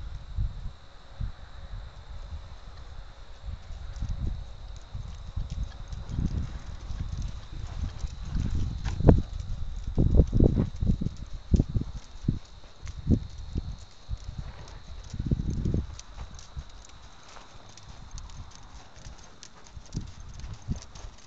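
Hooves of a Western horse clip-clop on the ground as it is ridden, a steady rhythmic series of soft, close thuds that swell in loudness midway, with no talk over them.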